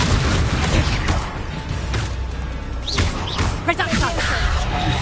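Confringo fire blast spell cast in the video game Hogwarts Legacy, with a few booming bursts and crackling impacts over dense, continuous game noise and effects.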